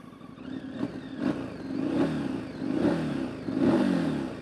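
A vehicle engine heard up close, rumbling steadily and revving in repeated swells that rise and fall every second or so, loud and alone with no talk.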